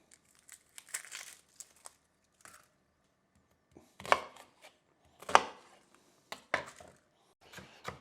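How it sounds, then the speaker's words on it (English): An onion chopped with a knife on a board in scattered bursts of sharp cuts and crinkly peel sounds, close, with quiet pauses between. "We're going to cut this onion, right?"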